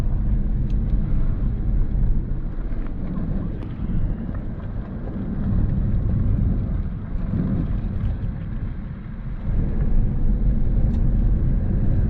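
A Tesla Model S P90D accelerates at full power on a track, heard as a loud, steady low rumble of road and wind noise from inside the car that swells slightly toward the end.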